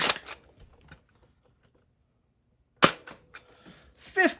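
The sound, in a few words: Nerf Deploy CS-6 blaster firing a dart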